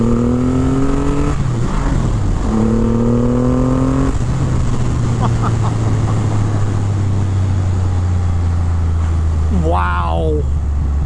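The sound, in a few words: Triumph Rocket 3 R motorcycle launching and accelerating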